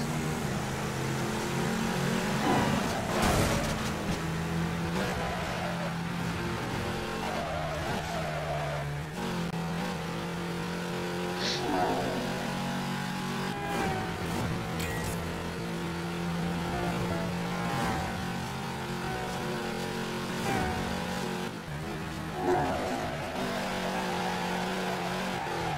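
A car drifting in the racing video game Midnight Club 3, with a steady, loud engine roar and tire squeal carrying on without a break and no one talking.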